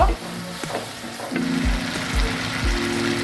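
Chopped tomato sautéing in a pan for chicken dopiaza, a loud steady sizzle with occasional scraping knocks from a spatula, close up and without talk.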